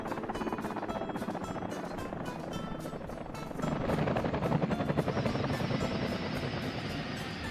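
A helicopter in a firefighting video game set in Siberia whirs steadily throughout with a fast rhythmic rotor chop, growing slightly louder midway.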